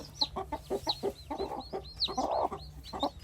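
Several chickens cluck and chirp in quick, overlapping bursts close by, with high peeping notes mixed among the lower clucks.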